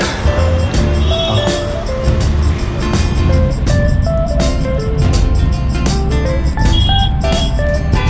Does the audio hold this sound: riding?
yes